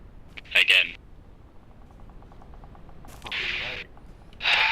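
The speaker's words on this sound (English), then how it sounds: "That's the other gun team shooting by accident" In the Bellum video game, another gun team fires a few short bursts at a distance: a quick volley near the start, then louder rattling bursts later on, with a voice speaking faintly in between.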